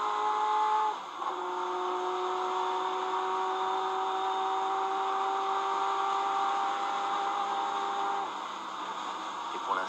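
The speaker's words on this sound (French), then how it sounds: "nous voici à bord de la voiture de Michel Ferté, la Ferrari F40 LM" Onboard engine of a Ferrari F40 LM race car at Le Mans 1995, a sustained high whine held steady, dipping briefly near the start as a gear change, then rising again, with a voice heard faintly.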